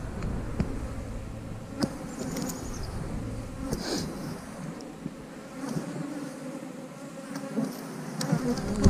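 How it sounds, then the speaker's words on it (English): Honeybees buzz steadily around an opened eight-frame hive as frames are lifted out, a close, continuous insect drone with occasional knocks and handling sounds. "Show you how many bees is still left in here."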